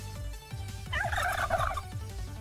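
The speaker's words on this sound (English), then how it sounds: "That was the turkeys making those noises." Turkeys gobbling in a rapid, warbling burst of several calls, loud and fairly close, with low background music underneath.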